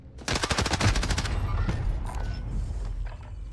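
Rapid automatic gunfire from a Call of Duty Modern Warfare (2019) Verdansk Plunder match, a dense burst of loud shots for about a second followed by scattered distant shots and rumbling ambience.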